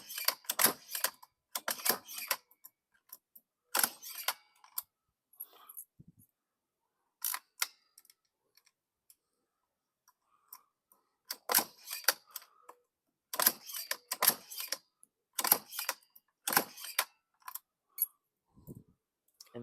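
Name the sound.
key punch machine punching out keys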